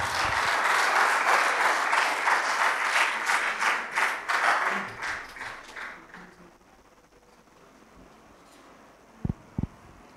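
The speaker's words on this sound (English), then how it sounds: "after a big round of applause as we invite him" An audience at an MOU signing ceremony breaks into a loud round of applause that swells and then fades out over several seconds, leaving quiet room tone broken by a couple of sharp taps near the end.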